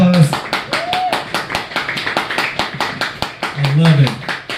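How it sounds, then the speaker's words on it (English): Applause and scattered clapping from a comedy club audience at a stand-up show, sharp irregular claps filling the room while a voice and some shouts or cheers carry over it. "Good plays, round of applause."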